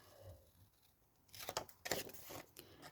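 A few quick, crisp snips of scissors cut paper corners after a quiet start, close and fairly soft.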